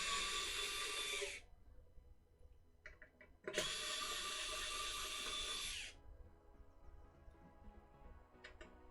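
Electric screwdriver driving screws while building an arcade fight stick, two close whirring runs, one short and one longer of about two seconds, with small clicks and handling noises between them.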